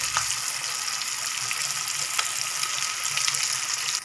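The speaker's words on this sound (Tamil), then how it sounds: "ஒவ்வொரு மீன் துண்டாக எடுத்து போட்டு பொரித்து எடுத்துட வேண்டியதான்" Fish pieces deep-frying in hot oil, a loud, steady, close hiss and crackle that carries on without a break, with no one talking over it.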